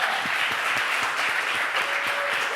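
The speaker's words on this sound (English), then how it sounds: "that's a round of applause for the stunt team." A workshop audience at a film and TV stunt masterclass applauds the stunt team, a brief burst of dense, steady clapping from a crowd in a room, with no speech over it.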